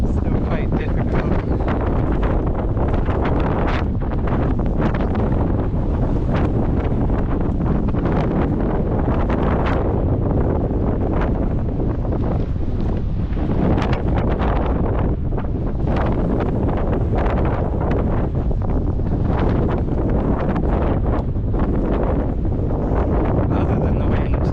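Strong wind buffets the microphone in a steady, loud roar on a coastal walk between Wadebridge and Newquay in Cornwall, gusting continuously throughout with no break.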